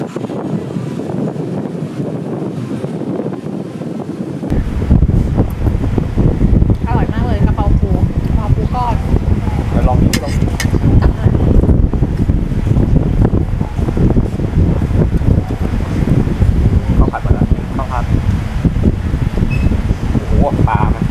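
Strong wind buffeting the microphone beside the sea at Hua Hin and Cha-am, with waves washing underneath, loud and constant throughout with faint voices now and then.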